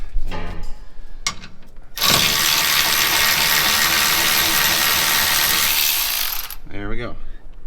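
Hand ratchet on bump stop bolts of a 2021 Ram 2500 Cummins, quick clicking bursts, then a long steady mechanical whir up close, a few more clicks at the end, with a brief spoken word.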